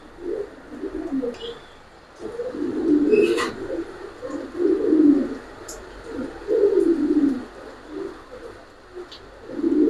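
Giribaz pigeons coo in a loft, several low rolling coos repeating in uneven bursts at close range, with faint chirps and small clicks in the background.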